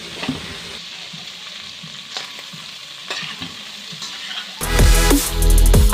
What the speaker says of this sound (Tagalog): Pagkatapos, ilagay ang pork belly. Hintayin magkulay brown.